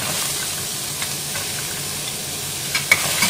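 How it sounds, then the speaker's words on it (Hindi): Chopped onions and carrots fry in a hot kadhai over a low flame, giving a steady close sizzle with faint clicks of a stirring spoon near the end. "कढ़ाई गर्म हो गई है और कढ़ाई पे मैंने प्याज डाल दिए हैं"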